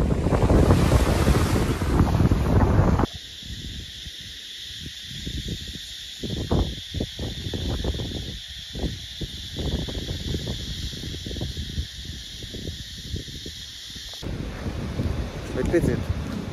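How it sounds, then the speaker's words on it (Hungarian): Strong wind gusts buffet the microphone on Nual Beach, Koh Larn island, Thailand, with surf washing in. The roar is loud and steady, dropping slightly in the middle stretch before building again, and a voice talks briefly over it. "Egy picit szeles, sőt több mint szeles."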